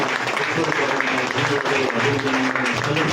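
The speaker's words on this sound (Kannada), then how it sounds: "ಜೋರಾಗಿ ಚಪ್ಪಾಳೆ" An audience at a public programme breaks into loud, sustained applause, a dense wash of clapping that fills the room while voices carry over it.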